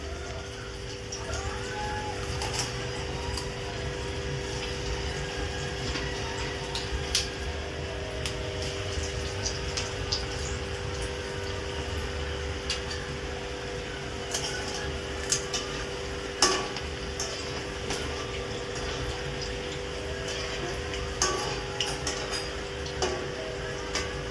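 Peas-and-potato snack pieces fry in hot oil with a steady, dense sizzle lasting throughout, dotted by occasional faint clinks of a utensil against the pan.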